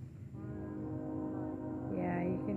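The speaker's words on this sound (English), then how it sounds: "Yeah, you can hear the train." A train passes near the Ohio River bluffs at Cape Girardeau, Missouri, its horn sounding as a steady, layered drone that swells toward the end against a continuous low rumble.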